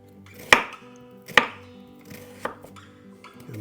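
A knife slicing food into thin pieces on a cutting board, with two sharp distinct chops followed by a third lighter cut, each a crisp close knock against quiet.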